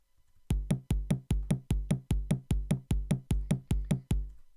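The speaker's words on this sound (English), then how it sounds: "BD is bass drum, and SN is snare drum here." A programmed drum pattern of bass drum and snare drum, generated with the Pydal live-coding library in Python, plays about twelve evenly spaced crisp hits subdividing the beat in two, loud and dry with no talk.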